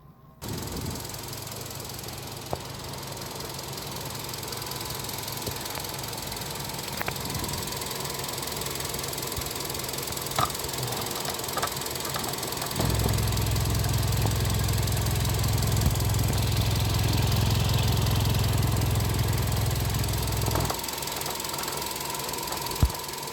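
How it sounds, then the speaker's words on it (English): A ten-year-old black Hyundai Sonata LPG sedan idles steadily with a low, even hum and faint ticking, a deeper, louder drone joining in the latter half before settling back; no one speaks. "the engine also sounds very good"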